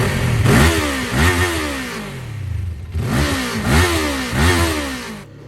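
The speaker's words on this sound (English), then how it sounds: "As you can hear, we have 180-degree crankshaft, which means that this bike doesn't sound the best." QJMOTOR SRK450 RR motorcycle with a 180-degree crankshaft revs in repeated bursts, each blip rising sharply then falling away, two groups of quick throttle stabs with a brief dip between, loud and close with no talking.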